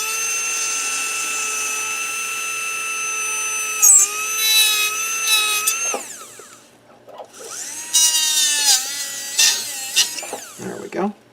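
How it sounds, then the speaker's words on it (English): A dental drill with a number 8 round burr grinds into a denture, whining steadily at high speed, then stopping and starting again in shorter bursts with small scraping noises in between. "we take a number 8 round burr, finding that superior portion of where the relief chamber is"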